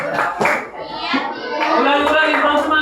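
Children in a classroom during a teaching practice session chant and clap together in an irregular burst of hand claps, loud and close, mixed with the teacher's and kids' voices.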